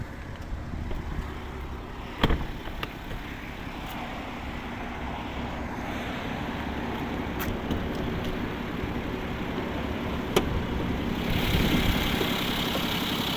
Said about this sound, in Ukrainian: Зараз підемо подивимося, як працює наш двигун.